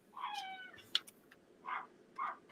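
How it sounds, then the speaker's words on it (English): A cat meows several times, a drawn-out cry followed by two shorter meows, fairly close in a quiet room. "you got kitties and dogs. I can hear them."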